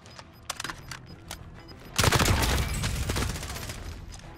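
Gunfire in the video game Call of Duty Warzone: a few quiet scattered shots, then from midway a loud, dense burst of rapid automatic fire that rattles on and slowly fades, with no voices.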